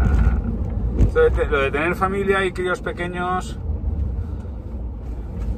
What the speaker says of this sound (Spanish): estoy haciendo recaos en coche.